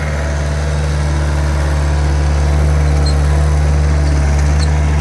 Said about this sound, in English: this is a Caterpillar 247, which I purchased at auction Saturday